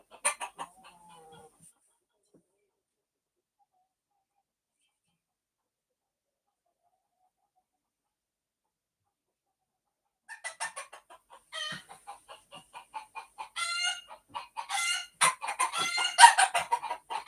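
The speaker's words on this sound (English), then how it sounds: "I think the chicken is laying an egg in the shower." A chicken clucks and cackles in a shower room next door, with a brief burst at the start, then about seven seconds of silence, then a string of loud, rising cackles that grow more insistent toward the end.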